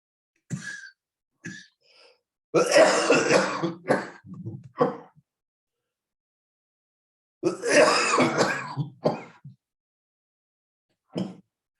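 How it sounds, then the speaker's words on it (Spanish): A few bursts of coughing and throat clearing, close and fairly loud, with short gaps between them and a last small cough near the end. "Ya mi tos no quiere seguir."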